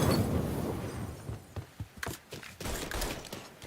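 Gunfire in the Mafia video game: dense, overlapping shots ring out as a steady fusillade, then give way to sharper, separate cracks and bursts that grow louder and more scattered in the second half.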